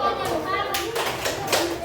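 Classroom applause as teachers and students clap for the students, a brief burst of several bright claps over ongoing talk.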